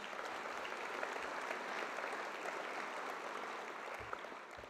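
Steady, dense applause from a large convocation audience greeting a university dean, heard from a distance and fairly faint, a continuous wash of clapping without speech.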